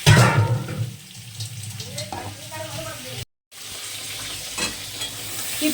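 A paste of ground cashews, melon seeds and poppy seeds hits a hot pan for shahi paneer and sizzles loudly, then settles into a steady, softer frying hiss with scraping, broken by a brief silent gap.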